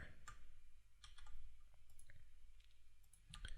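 A computer mouse clicks several times in a quiet room, sharp, faint, isolated ticks spread unevenly over a few seconds.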